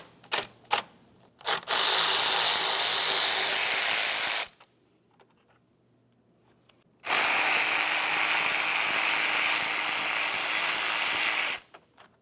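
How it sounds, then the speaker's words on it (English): An 8mm ratchet or power ratchet backs out the fan shroud bolts on a Nissan Titan, with a few clicks and then two long, loud, steady whirring runs separated by a quiet pause. "We'll use an 8mm to remove both of these top bolts."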